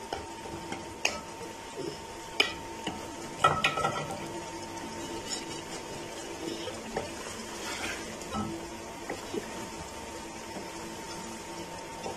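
Half a cup of yogurt stirred into liver masala cooking in a pan, a spoon scraping and tapping the metal in irregular strokes over a soft background sizzle, close and fairly clear, no talking.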